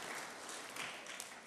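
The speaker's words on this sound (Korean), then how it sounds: "우리 나오실 때 박수로 한번 환영하시겠습니다." Dense, steady applause from a church congregation welcoming a missionary to the front during a Sunday service, filling the short stretch at an even level with no voices on top.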